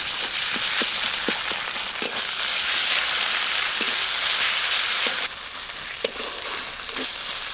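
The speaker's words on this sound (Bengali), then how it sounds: "পেঁয়াজ আর আদা রসুন বাটা একসঙ্গে ভালো করে ভাজবো।" Chopped onion and ginger-garlic paste frying in a pan make a loud, steady sizzle like heavy rain, with occasional soft clicks of stirring close by and no voices.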